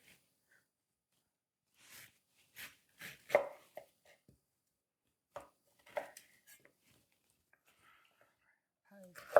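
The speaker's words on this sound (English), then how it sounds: "Chop it a little smaller." A knife chopping food on a board for a Taiwanese treat, scattered sharp taps in short bursts, close and fairly quiet, with a soft whispering voice in between.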